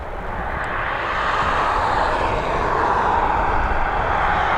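A Challenger 350 jet taxis at Dublin Airport, giving off a continuous broadband engine roar and whine that holds steady and fairly loud at a moderate distance.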